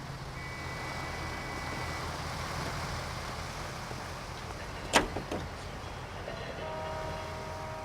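A car driven in the video game L.A. Noire gives a steady, moderate engine hum with road noise, broken by a brief sharp clatter midway.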